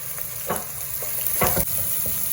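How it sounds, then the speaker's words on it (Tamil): Onions frying and being stirred in a pan while cooking a rooster biryani and curry, a steady close sizzle broken by a few scraping stirs of a spoon, with no voices. "இப்போ பாருங்கள் வெங்காயம் ஓரளவு வெந்து வந்துருச்சு"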